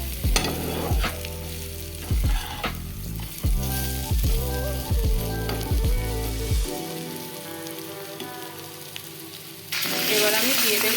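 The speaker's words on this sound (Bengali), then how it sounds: "এবারে আমি দিয়ে দেব ভেজে রাখা মাছের ডিমের বড়াগুলো" Fried fish roe fritters hiss and sizzle loudly in a pan of spice masala while being stirred, with steady crackling and scraping strokes throughout and a brief louder sizzle near the end.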